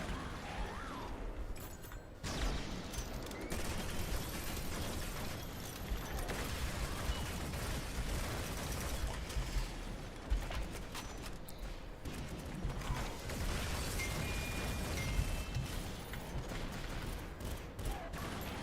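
Gunfire in the co-op shooter Synthetik 2, a near-continuous barrage of shots and mechanical clatter running throughout at moderate level, with occasional louder bursts.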